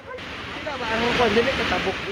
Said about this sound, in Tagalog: Malakas na kasi ang ragasan ng tubig doon dahil sa malakas na mga pag-ulan.